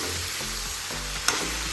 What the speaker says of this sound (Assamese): মাংসখিনিৰ লগত এইখিনি পূৰা ভাজিম যেতিয়ালৈকে মাংসখিনি ভাগ নাখায়